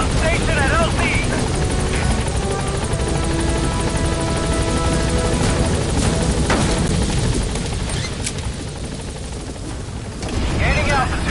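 A support helicopter in the Metal Gear Solid V video game arrives at a landing zone, its loud, close rotor roar holding steady with sharp bursts cutting through before the engine noise briefly eases.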